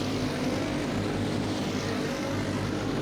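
A racing kart engine accelerating at a speedway, heard as a continuous loud buzzing engine drone that holds steady throughout.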